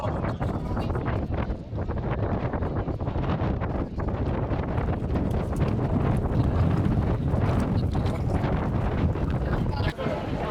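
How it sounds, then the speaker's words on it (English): Steady gusting wind roars across the microphone, rumbling continuously throughout with little variation. "And it got pretty windy"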